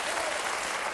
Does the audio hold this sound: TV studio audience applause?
yes